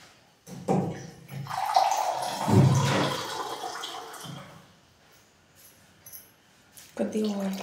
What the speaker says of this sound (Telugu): కొద్దిగా వాటర్.